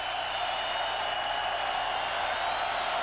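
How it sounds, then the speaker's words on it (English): Crowd noise fills a football stadium during a 1992 NFL game between the Dallas Cowboys and Philadelphia Eagles in Philadelphia: a steady, dense roar of the crowd sustained throughout. "Gant, he wants more crowd noise."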